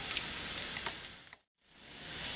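An omelette with onions and peppers sizzles in a cast iron pan, a bright steady frying hiss that cuts out briefly to silence midway before resuming.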